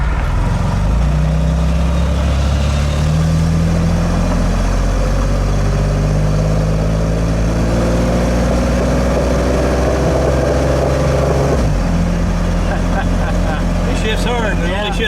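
1953 Chevrolet Corvette with a two-speed transmission on the move, its engine droning and rising in pitch as it accelerates, then dropping sharply at one hard shift, loud and close, with people talking over it.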